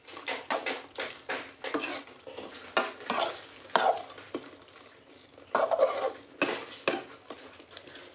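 A spoon stirs chicken curry with coconut milk in a pan, the dish being a coconut-milk chicken varattu. Rhythmic scraping strokes come about twice a second over a soft background sizzle, close and fairly loud, with no talking.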